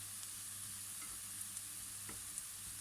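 A spoon scrapes around a greased frying pan just before a zucchini börek batter goes in, with faint sizzling over a steady hiss and a few soft clicks and scrapes.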